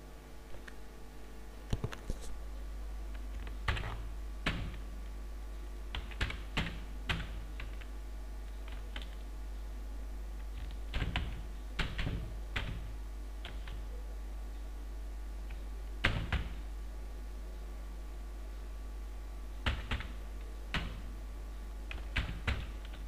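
Computer keyboard keys tapped in short irregular bursts of clicks separated by pauses, close and clear over a steady low hum, with no talking, while text is entered for a wedding album page layout in Photoshop.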